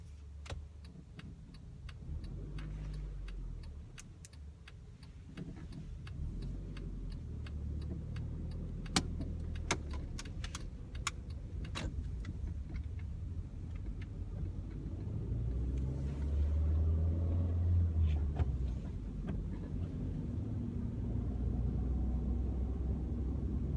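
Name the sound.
car driving on road during driving test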